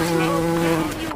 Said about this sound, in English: A bee! I am a cute little bumblebee!